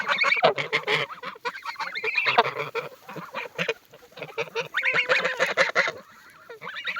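A goose honks repeatedly close by in bursts of harsh, nasal calls separated by short pauses, with no speech.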